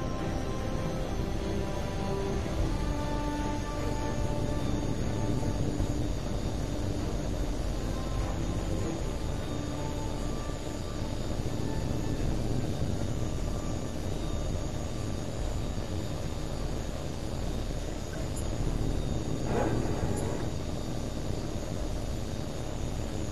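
Jet aircraft roaring as it takes off in the video game HAWX 2, a steady broad engine rumble and hiss holding throughout with a brief swell near the end, no talk over it.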